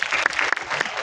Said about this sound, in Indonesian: Tepuk tangan dulu buat Star Vision teman-teman.